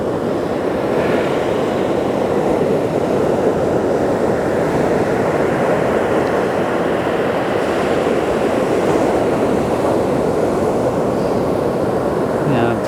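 Ocean waves roll in at a beach with a steady, loud wash of surf and wind noise throughout, and a voice speaks intermittently over it.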